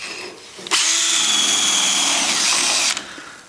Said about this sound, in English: Gonna make a little bit of a gouge here when the wheels go in there.